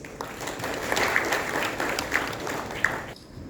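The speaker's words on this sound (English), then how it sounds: "With a round of applause" Steady applause from an audience at a mining congress fills the room, dense clapping holding for a few seconds before tapering off.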